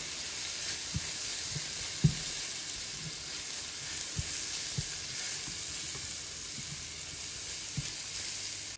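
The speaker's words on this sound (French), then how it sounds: "on va mélanger pendant 1 à 2 minutes notre riz sans rien intégrer d'autre" Rice sizzles steadily in hot fat for a leek risotto, a constant close hiss broken by soft, irregular clicks and scrapes of a spoon stirring the grains, with no talking.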